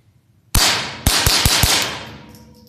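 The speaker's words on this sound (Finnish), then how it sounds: "me nopeasti ammutaan aseen tyhjäksi" A Smith & Wesson 2206 .22 pistol fired rapidly until empty: five sharp, close, loud shots in quick succession with a ringing echo tail, after a quiet start.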